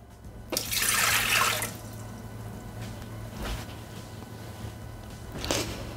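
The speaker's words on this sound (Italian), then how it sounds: "Iniziamo la ricetta mettendo all'interno del boccale l'acqua." Water poured into a Thermomix mixing bowl as a bread dough recipe begins, a bright splashing pour of about a second followed by a few faint drips and small splashes in a quiet kitchen.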